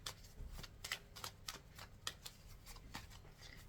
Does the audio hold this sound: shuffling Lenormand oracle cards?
yes